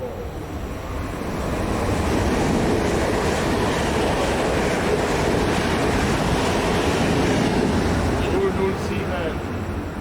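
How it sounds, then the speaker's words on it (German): A Eurocity train from Frankfurt to Milan passes on the Gotthard line at Altdorf, Switzerland, its loud, steady rumble swelling quickly and holding as the carriages roll by nearby. "dann sind wir hier beim nächsten Zug, den Eurocity von Frankfurt und nach Mailand."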